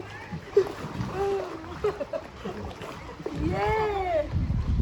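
Water splashes as someone swims in the Batang Tabik spring-fed pool in Payakumbuh. The irregular splashing sits close by, mixed with excited voices talking and calling out.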